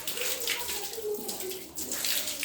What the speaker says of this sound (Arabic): انا بسحب الخرطوم عشان ابدا ان انا افتح الميه. انا هفتح الميه بقى زي ما انتم شايفين اهو